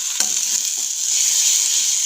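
Ground spices (turmeric, cumin, coriander and Kashmiri red chilli powder) sizzle steadily in hot oil in a pan for a silver carp curry, with a few soft stirring scrapes; no talking.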